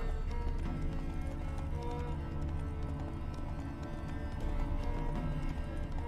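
Roach, a horse in The Witcher 3, gallops with steady rapid hoofbeats that run the whole time under a dense bed of game music and ambience.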